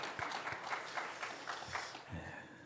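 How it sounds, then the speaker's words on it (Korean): Congregation in a church sanctuary during a Sunday worship service applauding together, a steady wash of clapping with some rhythmic pulses at moderate distance, fading out near the end as a low hum and a faint voice take over. "하나님께 영광의 박수 올려드리겠습니다."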